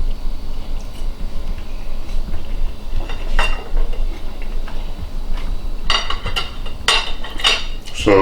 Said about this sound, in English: So we just do a quick slice of the Eggo, show you that's done.